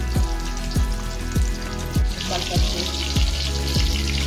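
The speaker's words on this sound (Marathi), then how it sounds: "आता आपण सर्व तेलामध्ये सोडून घेऊया अशा प्रकारे म्हणजे एवढंच टाकूया त्यानंतर दुसरी बॅच आपण त्यामध्ये ऍड करू तेलामध्ये फ्राय करू" Chicken lollipop pieces fry in hot oil with a steady bubbling sizzle, broken by a run of regular, fairly loud low thumps about every half second, with no voices.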